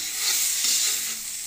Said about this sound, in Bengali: এবার শাকটা আমরা নড়াচড়া করবো।